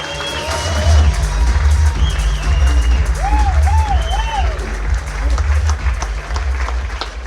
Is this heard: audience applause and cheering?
yes